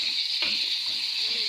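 Squash with onion and ginger stirred in a hot pan, a bright continuous sizzle of frying with soft scraping strokes of the utensil in a home kitchen.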